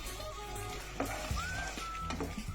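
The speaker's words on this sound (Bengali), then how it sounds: "মশলাটা ফাইনাল কিছুক্ষণ কষিয়ে নেব, বেশি না, 1-2 মিনিট।" Spice paste frying in oil for egg curry makes a soft, steady sizzle with a few stirring knocks and scrapes. Faint tonal whines come from somewhere in the background.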